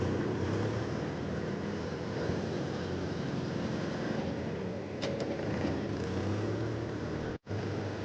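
A new 2023 Mahindra tractor reverses, its engine giving a steady, loud, even drone with wind rushing over it, apart from one brief dropout near the end.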